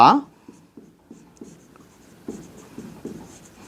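Marker or chalk writing on a classroom board during a class 8 math lesson, a series of short scratchy strokes in an irregular rhythm, with a teacher speaking at times.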